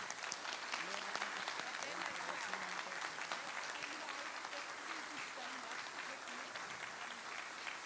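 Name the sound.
conference audience applause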